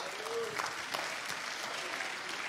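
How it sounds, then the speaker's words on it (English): Church congregation clapping hands during a worship service in a tabernacle, steady scattered applause with a voice briefly rising over it. "Come on and clap your hands."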